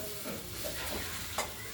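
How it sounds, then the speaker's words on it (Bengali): Cut beans frying in oil in a pan for a vegetarian dish, a soft steady sizzle with faint stirring scrapes and a small clatter near the end. "আর শিমগুলো ভাজা হয়ে আসছে, ওই জলে সেদ্ধ হয়ে গেছে।"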